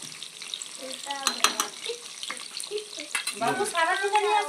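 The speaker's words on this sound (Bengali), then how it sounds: "আলুটা ফ্রাই হচ্ছে এখন" Potatoes frying in oil for a home-style biryani give a steady, close crackle with brief louder bursts, while faint voices murmur in the background.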